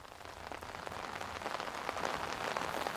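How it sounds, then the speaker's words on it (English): Steady rain patters on a camping tarp, a dense crackle of drops that grows slightly louder over a few seconds, with no voices. "Here comes the rain."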